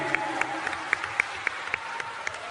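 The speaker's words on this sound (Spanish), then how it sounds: "Por favor, recibámoslos de pie con un aplauso a nuestros héroes." Audience applause at a Peruvian civic event held by the Jurado Nacional de Elecciones, with a steady wash of clapping and sharper individual claps standing out at a moderate distance, along with faint crowd murmur.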